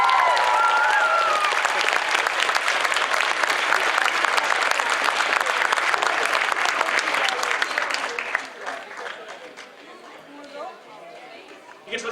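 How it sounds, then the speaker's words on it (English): A cosplay contest audience at a comicon in London, Ontario, claps loudly in sustained applause mixed with crowd chatter and cheers, then thins out toward the end. "Let's get one more big round of applause for everybody."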